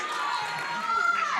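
Crowd at a Nightmare Factory student wrestling showcase cheering and shouting in a sustained roar, with some higher voices rising above the mass.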